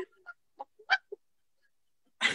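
A voice imitates a chicken with a series of short, clipped clucks and squawks, spaced irregularly with silence between, ending in a louder burst.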